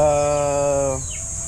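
A chicken gives a short, clear tonal call lasting about a second, then trails off into quiet background noise.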